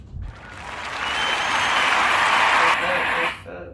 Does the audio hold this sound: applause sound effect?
yes